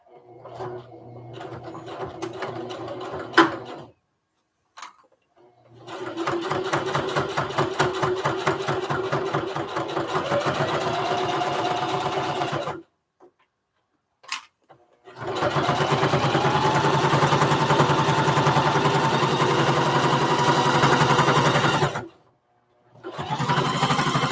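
A sewing machine stitches a strap onto a lunch tote close to the edge, loud and near, running in several long sustained bursts separated by short silences.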